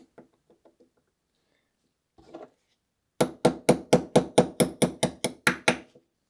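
A hammer taps a KitchenAid mixer part out: a few faint light taps, then a close, loud run of about a dozen sharp, evenly spaced metallic blows.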